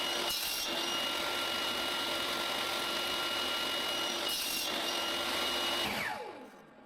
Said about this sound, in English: I use a sled that has an exact 45-degree angle in saw cut